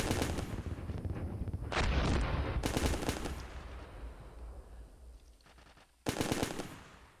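Bursts of rapid machine-gun fire in the Steel Beasts Pro tank simulator game, loud and close, coming in several rattling volleys separated by short pauses, with one final burst near the end.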